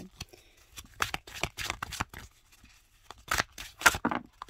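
Oracle cards riffled and shuffled by hand, a run of short papery swishes and slaps in irregular bursts, close and fairly quiet, with no voice.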